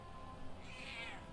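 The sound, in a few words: pet cat meowing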